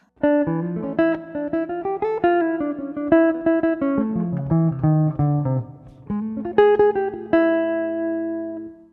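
On jazz guitar, a five-one line unfolds as a rapid chain of clean picked notes descending, a short pause, then a brighter phrase ending on a ringing held note, close and solo.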